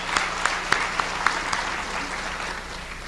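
An audience at a corporate awards program applauds steadily, a dense continuous patter of many hands with a few sharper individual claps standing out near the start, sustained at an even level throughout.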